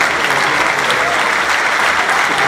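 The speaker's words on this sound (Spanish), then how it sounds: "Muchas gracias, un aplauso." Dense applause from a crowd at an award ceremony for a choir by giant-dancers, steady and sustained from start to finish, loud and close.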